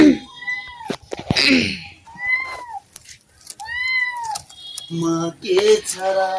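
A kitten that was stuck up a tree meows close by, a series of short plaintive cries spread across the moment, mixed with sharp sneeze-like noisy bursts.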